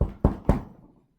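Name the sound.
knock at the door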